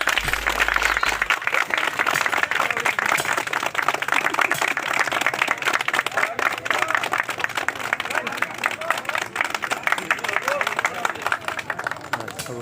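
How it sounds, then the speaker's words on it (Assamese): Sustained clapping from a crowd watching a local street fight show in Assam, dense and steady throughout, with a loud announcer's voice calling out over it. "দাদা বৌ চবে একতা মজবুত হাত চাপৰি বজাই দিয়ক"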